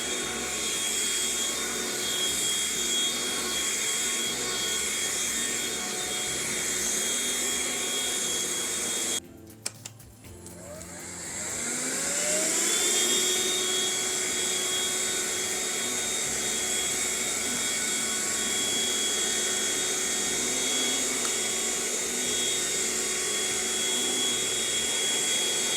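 A Philips Speed Pro cordless vacuum cleaner runs with a steady, loud motor whine, briefly cutting out and then spinning back up to full speed.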